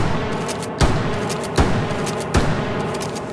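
Three evenly spaced shotgun blasts in the VR shooter H3VR, each a loud sharp crack with a short tail, close and loud, with no talking between shots.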